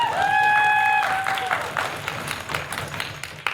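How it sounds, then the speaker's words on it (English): An audience applauds the judging panel at a university debating grand final, a burst of clapping that swells early and then thins, with a brief tonal whistle or feedback near the start. "So round of applause for them."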